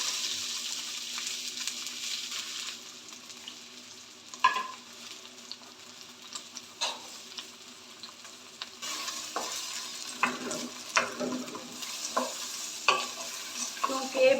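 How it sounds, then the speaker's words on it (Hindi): Green peas fry in two or three spoonfuls of olive oil with an even hiss under the crackle. Spoon scrapes and stirring clatter build toward the end. "सबसे पहले मैं इसमें मटर फ्राई करूँगी अपने।"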